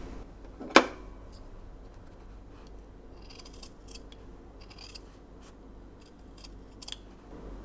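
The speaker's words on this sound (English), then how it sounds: "I'm going to trim this part as close to the stitching as possible." Scissors trimming fabric close to the stitching while sewing a newsboy cap, giving one sharp snip near the start, then faint scattered cuts and rustles in a quiet room.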